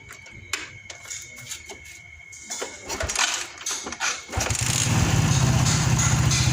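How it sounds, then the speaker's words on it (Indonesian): A Suzuki Shogun 110 motorcycle engine cranks with clicks and sputters, then catches and settles into a loud, steady idle nearby. "Sekarang mesin sudah hidup."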